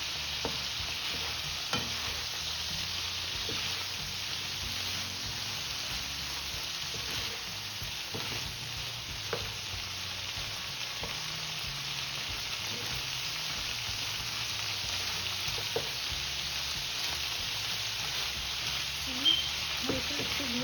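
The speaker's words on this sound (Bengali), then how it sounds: "লবণ হলুদ মাখিয়ে মাছটা একটু ভেজে নিচ্ছি" Fresh prawns coated in salt and turmeric fry in a pan with a continuous, fairly faint sizzle and occasional small crackles and utensil taps throughout.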